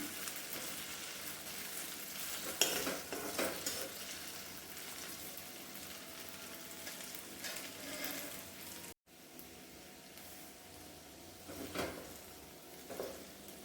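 Potatoes sauté in a pan over a very low flame for sabudana khichdi, giving a faint, steady hiss with a few soft pops and clicks throughout.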